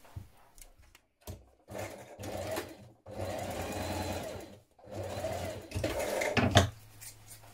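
A sewing machine stitches a curved seam on a pair of Ames jeans, running in several bursts of steady mechanical whirring separated by short pauses.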